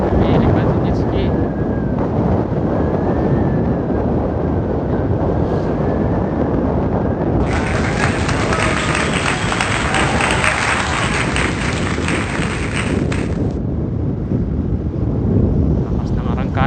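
Jet ski running across open water in the evening, a loud continuous roar of engine and wind buffeting with splashing, a higher whine joining midway, and voices talking over it.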